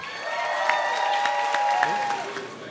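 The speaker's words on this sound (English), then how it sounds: "Please join me in giving a warm round of applause" Wedding guests applauding at a reception in Wakefield, Quebec: a steady, even round of clapping from a crowd, sustained throughout at moderate loudness, with faint voices mixed in.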